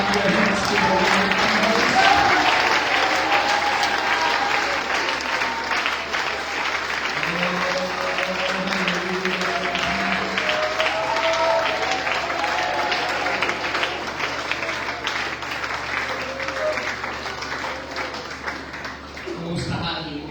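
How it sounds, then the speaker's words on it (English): A church congregation claps steadily through a continuous wash of applause during an anniversary service, with voices singing or talking faintly underneath and the clapping thinning out briefly near the end. "Can everybody clap your hands to the Lord?"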